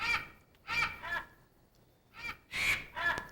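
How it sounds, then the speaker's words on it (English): An eagle calling outdoors, loud harsh cries in bursts, two close together, then a pause, then another pair, ringing out alone against quiet surroundings. "I think it's an eagle."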